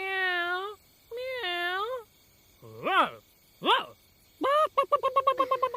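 A voice imitates a string of animal and bird calls: two drawn-out cat meows, then two short rising-falling cries and a rapid chirping trill, all close and clear with brief pauses between them.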